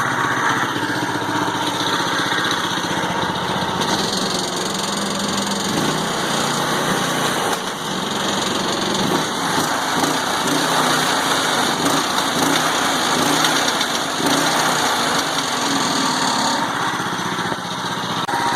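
A Predator 212 gas engine fitted to a converted EZGO Marathon golf cart runs steadily for the whole stretch, with a buzzing, high-revving small-engine drone that stays loud and close, with no one speaking.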